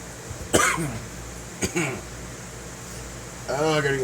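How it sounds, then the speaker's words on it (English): A man coughs in several sharp, close bursts spaced a second or so apart, followed by a short voiced throat sound, over a low steady hum. "Oh, I gotta get this cough under control."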